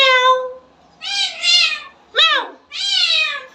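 A female cat in heat meows angrily and close by, giving four separate loud meows in an uneven rhythm. One call is a sharp, falling cry and the others are longer yowls.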